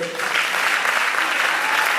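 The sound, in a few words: audience applause for slam poet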